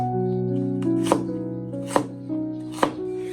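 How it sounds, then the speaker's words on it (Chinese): A knife chops lotus root into small pieces on a cutting board, three sharp, evenly spaced blade strikes against a steady background tone. "最後我們把蓮藕給它切成小塊。"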